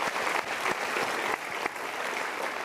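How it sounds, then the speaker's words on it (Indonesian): Studio audience on an Indonesian talk show gives a dense, steady round of applause, close and lively, with no talk over it. "Super sekali. Kita berikan tepuk tangan."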